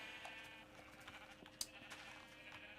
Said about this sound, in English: there's some suicidal sheep sitting on a mountain that have been there for a while